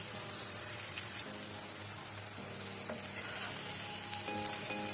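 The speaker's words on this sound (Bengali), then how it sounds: "পরে মিট্টা মাছের শুটকিটা পেঁয়াজের সাথে একটু ভেজে নিব।" Dried lotte fish fries with onions in a pan, giving a faint, even sizzle with a few light stirring clinks, quiet and close throughout with no voices.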